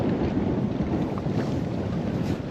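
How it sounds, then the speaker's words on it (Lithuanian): Strong wind roars steadily across the microphone at a riverside spot while bream fishing in Birštonas, a loud, close, constant rush with no talking. "Ojoj, vėjas, koks matot patys."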